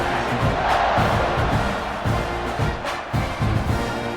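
Stadium crowd noise in the EA Sports College Football 26 video game, a loud, steady roar of many voices swelling in waves with scattered shouts and cheers throughout, no clear talk on top.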